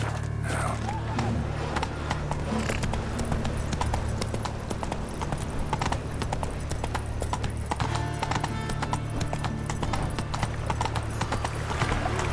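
Roach the horse galloping in The Witcher 3 video game: a dense, fast run of hoofbeats that carries on throughout over a low, steady game ambience.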